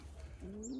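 Pigeons in a loft give a soft, low coo that swells at the end of a brief moment, over faint background noise.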